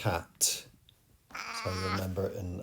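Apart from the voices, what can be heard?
cat meowing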